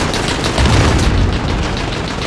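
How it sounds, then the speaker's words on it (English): A flashbang grenade goes off in the PC shooter Call of Duty: Modern Warfare, a loud booming blast buried in a dense, continuous wash of gunfire and explosions with no pause. "Use a flashbang! Blind him!"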